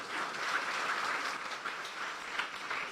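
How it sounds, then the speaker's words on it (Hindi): A church congregation claps together in sustained applause, a soft, even wash of many hands heard from some distance. "इस बच्ची के लिए हम जोरदार तालियां बजाते हैं।"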